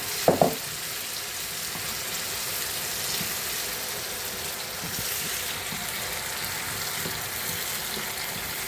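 Tomato going into a hot pan and frying for a meatless borscht base, with a brief clatter at the start followed by a steady soft sizzle throughout at moderate volume, no talk.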